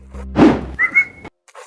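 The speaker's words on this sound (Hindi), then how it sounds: "मुझे सीटी मारियो पहले" A person whistles briefly: a thud comes first, then a short, clear whistled note that wavers slightly, then silence.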